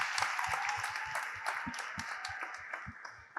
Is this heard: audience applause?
yes